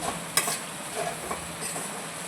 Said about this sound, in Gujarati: સરસ આપણે મિક્સ કરી દઈશું તો વેજીટેબલ પૌવા તૈયાર છે